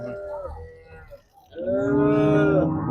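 Cattle at a cattle trader's yard: a sustained moo fades out, then a second louder, longer moo follows close by, with no talking.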